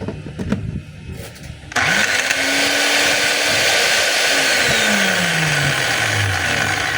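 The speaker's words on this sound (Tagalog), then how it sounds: "So ito po yung 10 kilos DeWalt na jackhammer." A DeWalt D25899 10 kg jackhammer with a faulty piston starts up after some handling clatter, then runs with a loud, steady, noisy hum and whine that wavers in pitch.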